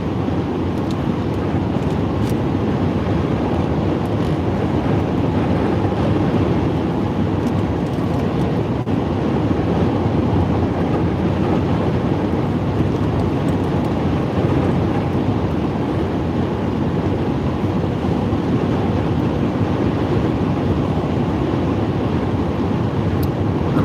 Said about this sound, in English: Very windy here. A lot of crosswinds